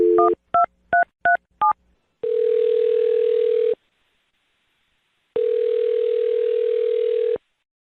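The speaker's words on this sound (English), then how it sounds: "I'm going to dial her phone number right now" Telephone keypad touch tones: five quick dialing beeps in a rapid run, followed by two long, steady ringback tones separated by silence, clear and close with nothing else present.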